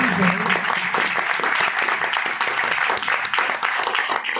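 A church congregation applauds loudly, a full, continuous roll of many hands clapping that stays strong and even from start to finish.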